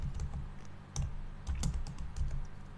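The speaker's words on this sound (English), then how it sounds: "I'm gonna type cd" Several quick keystrokes tap on a computer keyboard as a cd command is entered, close and crisp clicks in an irregular rhythm over a faint low hum.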